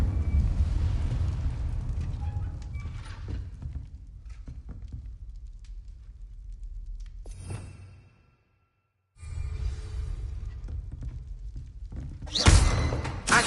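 An Incendio fire spell cast in Hogwarts Legacy erupts as a short, loud burst of fiery whoosh near the end, following a stretch of low game ambience and a brief moment of silence.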